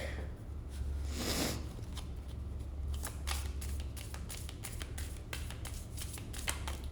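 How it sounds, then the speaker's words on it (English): Cards riffle together in a quick whirring burst, followed by a string of crisp taps and shuffling slaps as the deck is squared, close and fairly quiet. "just one shuffle, riffle shuffle, and then clearing the deck"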